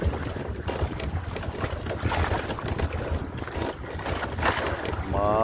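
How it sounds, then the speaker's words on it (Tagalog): A large cargo ship passing near a small fishing boat at sea in the evening, heard as a continuous low rumble and wash of water with wind noise over the microphone, steady and fairly loud throughout. "Malaking barko to. Cargos."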